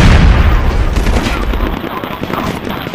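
Heavy gunfire and a grenade blast in the tactical shooter SOCOM 4, loud and close at the start with a deep boom, then rapid bursts of shots trailing off.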